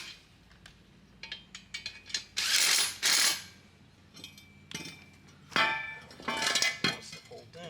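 Ratchet clicks in quick bursts while bolting together parts of a child bump seat on a Can-Am X3 Maverick UTV, with sharper metallic clinks between; close and moderately loud, with occasional background voices.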